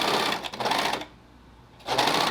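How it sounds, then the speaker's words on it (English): A serger overlocker stitches a seam on a T-shirt, two rapid bursts of dense mechanical whirring separated by a brief pause, close and fairly loud. "I lower my foot and serge that right in the seam"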